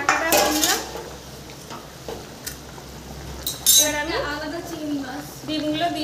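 A lid lifted off a cooking pot while making a shrimp and egg dish, with metal clanks and dishes clinking in several bursts as a person talks.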